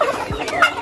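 Poultry on a desert farm in the UAE, with short loud gobbling and clucking calls close by, several quick bursts in under a second and no talk.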